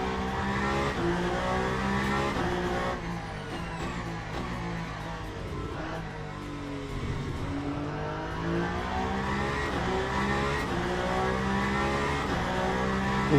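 A race car in Le Mans Ultimate drives laps at Imola while warming its tires, its engine droning loudly and steadily with rising and falling revs through gear changes and corners, with faint tire squeal and no talk.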